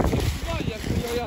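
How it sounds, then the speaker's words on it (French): Wind buffets a microphone outdoors on a beach at a kitesurfing spot, a rough low rumble that swells and fades over a brief moment, with a voice speaking faintly underneath. "en plus, il y a le vent qui se lève"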